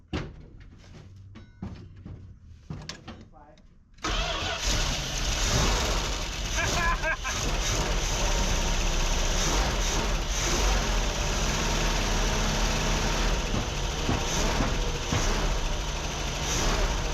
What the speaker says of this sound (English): Okay, let's see if it starts.